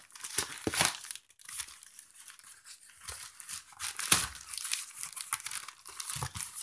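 A folding music stand sealed in tape, cardboard and plastic is unboxed, with close, busy crinkling and tearing of packaging in bursts and scrapes, and no talk.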